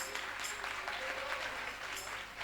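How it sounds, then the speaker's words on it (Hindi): Audience applause for performers at a festival stage show, sustained even clapping from a large crowd, steady and somewhat distant throughout. "एक बार सभी कलाकारों के लिए जोरदार तालियां।"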